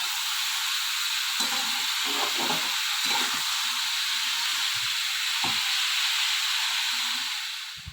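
Onion, potato and pumpkin strips fry with salt and turmeric, a steady loud hiss with intermittent low clatters and stirring scrapes in the pan, close by and with no voices.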